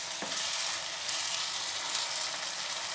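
Tomatoes cooking in a pan for vegetable biryani give a steady, close sizzle and fry with no pauses.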